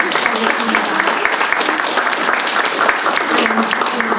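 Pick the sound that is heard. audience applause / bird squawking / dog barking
audience applause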